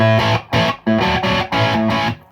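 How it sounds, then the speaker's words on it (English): An electric guitar played through a prototype Fuzz Face fuzz pedal, loud and thickly distorted, with five or six sustained strummed chords in a choppy rhythm, each cut off briefly before the next. "it's a rainbow of fuzz tones"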